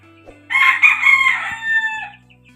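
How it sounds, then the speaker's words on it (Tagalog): A fighting rooster crows once, loud and close, a drawn-out call over a low background hum. "Magandang klaseng manok yan."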